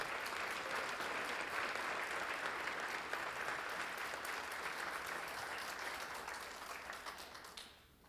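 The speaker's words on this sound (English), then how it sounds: "Give her a round of applause." Sustained audience applause at a public safety awards ceremony, dense clapping from a large crowd that holds steady, then thins and fades away at the end.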